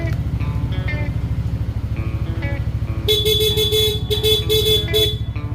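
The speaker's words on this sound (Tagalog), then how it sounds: "yung stock horn at saka yung loud horn" A Yamaha NMAX V2 scooter engine idles steadily while its stock horn honks in several short and longer blasts, loud and near.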